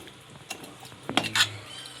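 A spoon stirring fish curry in a pot after coconut oil is poured in gives a few close scraping and clinking strokes with a soft sizzle, mostly in the latter half.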